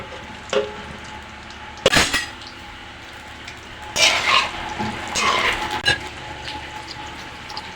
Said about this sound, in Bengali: তেল গরম হয়ে গেছে এখন আমি এই জলপাইগুলা তেলে দিয়ে দেবো